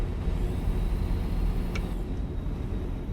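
Stock Peterbilt 389 truck in American Truck Simulator rolling along with a steady low engine and road rumble, one brief high air hiss partway through, continuous and fairly loud.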